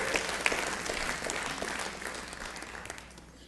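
Applause from a church congregation during a Sunday healing service fills the room as a steady, dense wash of clapping that tapers slightly toward the end.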